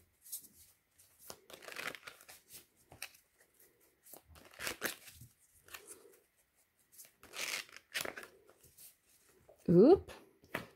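Tarot cards are shuffled and laid out on a table in quick soft riffling and slapping bursts with pauses, close and fairly quiet, between a woman's French speech.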